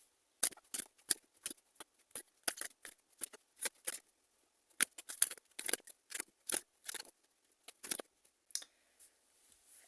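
Tarot cards being shuffled by hand in a quiet room, a rapid run of crisp riffling snaps and taps with brief pauses between bursts, close and soft.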